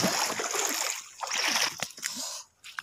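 Water splashes and sloshes as someone wades across a river toward a temple standing midstream, the broad splashing loud and close for about two seconds before thinning into a few scattered drips and small splashes.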